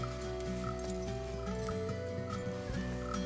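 A horse being hitched in the video game Red Dead Redemption 2 gives soft hoof clops and shuffles under steady game music and ambience.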